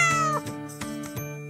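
A cat gives a clear, close meow that glides down in pitch, followed by a few faint rhythmic taps and a soft chime-like background.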